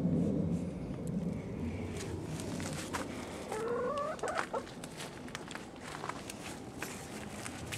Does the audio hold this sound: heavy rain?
no